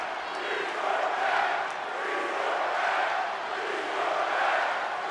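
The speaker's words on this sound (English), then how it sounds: "The crowd is not happy with that ending." A wrestling arena crowd in WWE 2K26 rumbles in a continuous, mid-distance roar of disgruntled voices that swells and ebbs gently.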